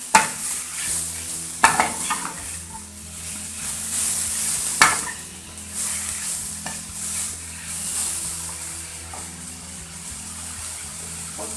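Chicken being stir-fried in a pan over low heat for spring roll filling, with steady sizzling and repeated scraping stirs, a few louder clacks of the utensil against the pan, close and alone with no talk.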